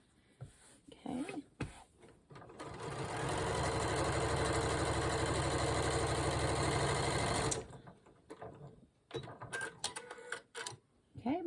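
A sewing machine stitches quilt fabric for a beginner four-patch block across a seam, a loud, steady mechanical whir running for several seconds alone, with brief bumps and handling noises before and after.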